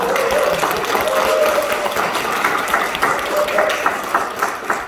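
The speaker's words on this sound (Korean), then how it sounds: "앞으로 고생 열심히 하시라고 박수 한번 부탁드립니다" Steady crowd applause at a launch ceremony for a regional small-business committee, continuous and fairly loud throughout with a faint tonal hum underneath.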